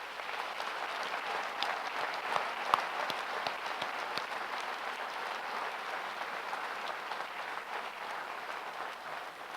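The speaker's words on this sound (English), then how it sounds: "So let's give our Students' Union a clap." A graduation ceremony audience applauds steadily, a dense wash of many hands clapping that holds at an even level throughout with no voices over it.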